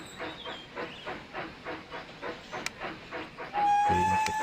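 Train loading at a station in the railroad management game Railroad Tycoon 3, with a rhythmic chuffing hiss of steam repeating steadily, then a louder sustained hiss and mechanical hum with a whistle-like tone near the end.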